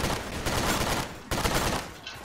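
Rapid, dense volleys from a nail gun in a Roblox gun game crackle loudly for about a second, break off with a short gap, then return in a second burst that fades toward the end.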